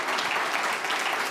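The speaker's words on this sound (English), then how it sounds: "Give them a round of applause." Audience applause at a tech conference livestream, a dense, loud burst of clapping heard alone and sustained evenly throughout the brief moment.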